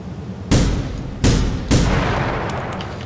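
Three sharp booming blasts from The Final Station video game, close and loud, spaced about a second apart with a rumbling tail after the last one.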